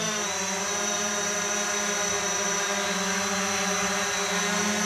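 A CarbonCore Octo1000 octocopter's eight electric motors hum steadily and loudly during a payload test, a continuous layered whine with no voices.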